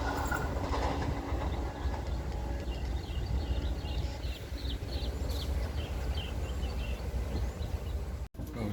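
The Pandalungan passenger train rumbles past nearby at a station, a continuous heavy rolling roar with faint wheel clatter and a brief bird call high above.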